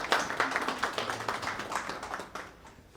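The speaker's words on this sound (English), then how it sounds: "round of applause for Jeremy as he comes" An audience at an AgriTech AI hackathon during an innovation week claps for a keynote speaker, a short burst of quick, fairly close hand claps that fades toward the end.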